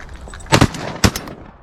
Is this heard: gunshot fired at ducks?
yes